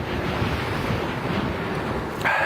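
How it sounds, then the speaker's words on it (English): A strong wind roars into the microphone on a bicycle ride through Amstelveen, a dense, steady rumbling buffet that stays loud throughout. "Apart from this freaking wind, oh my God."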